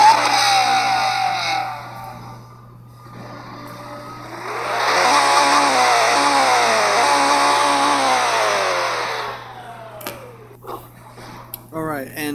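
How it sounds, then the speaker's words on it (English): Engine revs from a car in the Nitro Nation racing game, loud and sustained, with rising and falling pitch as it climbs through revs, then quieter scattered engine sounds near the end. "let's go ahead and listen to this one too"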